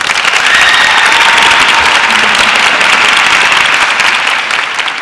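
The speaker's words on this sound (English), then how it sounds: "Please join me in a round of applause to say a sincere thank you to these educators" A large audience gives a loud, sustained round of applause for honored teachers at a Fayette County Public Schools Teacher of the Year ceremony, dense clapping filling the hall and easing slightly at the end.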